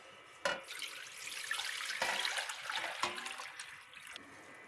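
About 1.5 liters of water is poured into a cooking pot on a stove, a steady rushing splash that starts with a clunk and runs continuously before tapering off, with no talking.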